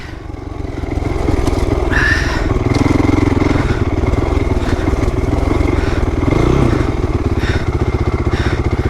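A Honda CRF450R dirt bike runs on a hidden track in the woods, its engine a loud, continuous, close buzz that swells and eases slightly with the throttle.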